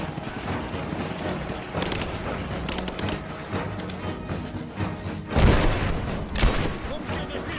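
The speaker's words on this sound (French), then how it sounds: "On me tire dessus!" Gunfire in the Rise of the Tomb Raider video game: dense, overlapping shots and heavy thuds in a busy battle mix, with a louder burst of impacts near the end.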